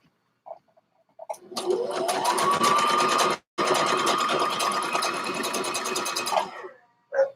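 A sewing machine test-stitches stretch fabric on the SS stitch setting, running steadily for several seconds with a brief pause midway, the fast mechanical whir close and loud, ending with a short burst.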